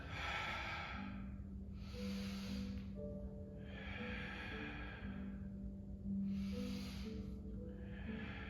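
A person breathes slowly during a full-body warm-up stretch, taking long, close, airy inhales and exhales in a regular rhythm over a low steady hum, with no talking.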